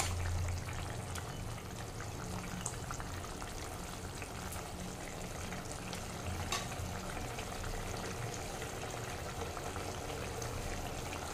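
A pot of sour curry with lentil fritters boils on the stove, giving a steady, even bubbling hiss that runs close and unbroken throughout.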